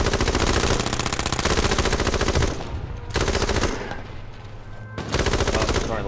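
Vehicle-mounted machine guns in the game H1Z1 fire rapid, sustained bursts, loud and near, with two short pauses between long volleys.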